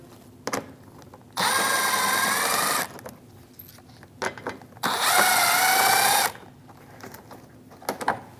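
Power tool with a 7mm socket spinning out a bumper screw on a Chevrolet Malibu during AC condenser replacement, two sustained whirring bursts of about a second and a half each, close and clear, separated by brief clicks and handling noises.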